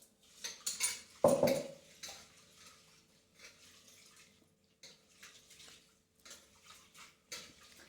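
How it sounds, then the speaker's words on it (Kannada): Lentils are washed in a metal pot with water, giving faint swishing and splashing, light clinks and one sharp metallic clank early on, close by and with no talk. "ಫಸ್ಟು ಬೇಳೆ ತೊಳ್ಕೊಳ್ಳೋಣ."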